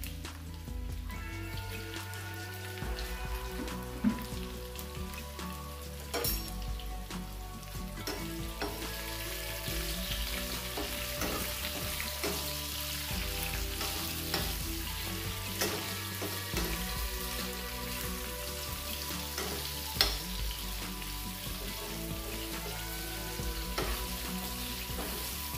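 Onion, ginger, scallion and scotch bonnet pepper frying for Jamaican-style chicken stir fry: a steady, close sizzle with occasional stirring clatters and utensil knocks, continuous and without talk.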